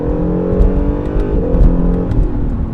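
A Honda NSX's V6 engine hums at a steady, raised rev, with a smooth, droning tone and small surges in intensity, heard close and with no voices.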